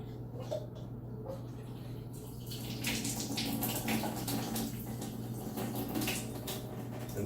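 Drinking water running from a tap, a steady close splashing stream that grows louder partway through, over a low constant hum.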